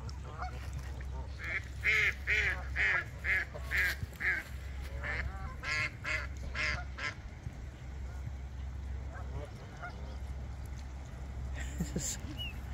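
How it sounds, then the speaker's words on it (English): Geese honk and ducks quack together at Lake Tomahawk, a loud run of rhythmic calls in bursts early on, then scattered calls over steady outdoor background noise. "All the geese are gathering over here and kicking the ducks out."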